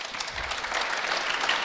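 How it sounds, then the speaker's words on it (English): Lukewarm audience applause at a Reagan forum with Greg Gutfeld, a steady patter of clapping from a moderately sized crowd, fairly soft and unenthusiastic. "tepid applause"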